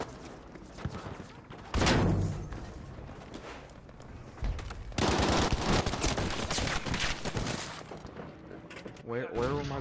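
Bursts of rapid machine gun fire from the Battlefield 5 beta video game, loud and sustained in long rattling streams with heavier shots mixed in and faint game sounds under them.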